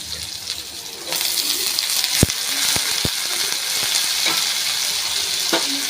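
Chopped ridge gourd hits a hot pan for a chutney and sizzles loudly and steadily, with a few sharp clacks of a spoon stirring it through.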